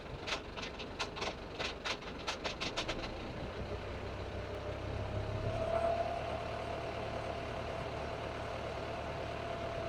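A boat engine in forward gear climbs toward 1,000 RPM: a steady low mechanical hum that swells slightly midway, preceded by a quick series of sharp clicks, with no talking.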